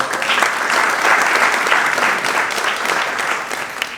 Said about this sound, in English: I just want to applaud them for being able to do that